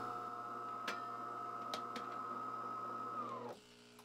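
A Delonghi Magnifica Start coffee machine on a descaling cycle runs with a steady whining pump hum and a few faint ticks, then cuts off abruptly near the end, leaving a quieter hum.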